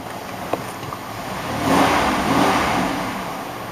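A van engine idling and then revving up briefly before settling back, a steady close mid-pitched rumble with a swelling rise in the middle and no talk over it.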